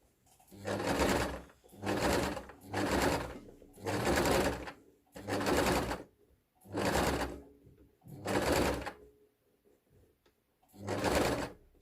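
Sewing machine stitching a seam on a tiered, gathered elastic-waist skirt, running in seven or eight steady bursts of about a second each, separated by short pauses, loud and close with no talking.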